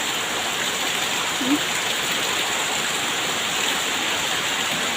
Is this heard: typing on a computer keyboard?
no